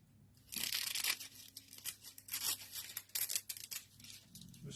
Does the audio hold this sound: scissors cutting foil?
yes